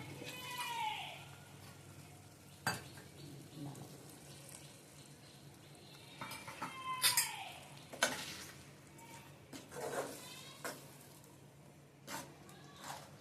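Ground coconut and fennel being stirred into a pan of prawn thokku, with scattered scraping clicks of the spoon against the pan over a low, steady sizzle, close by.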